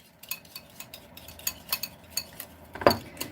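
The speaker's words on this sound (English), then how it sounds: "I'm going to go ahead and whisk that a little bit and get this tray in" Whisking carrot cake batter in a bowl gives a quick, uneven run of light metallic clinks and taps, close and fairly quiet, ending with one louder clatter near the finish, with no voices.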